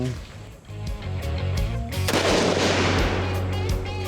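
A rifle fires outdoors while a shooter puts a three-shot group on a target at 35 yards. One sharp, loud, booming report rings out in the middle of the clip over steady background noise.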